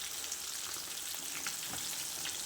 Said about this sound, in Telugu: నాకు నూనెలో కాలుతున్నాయి చూడండి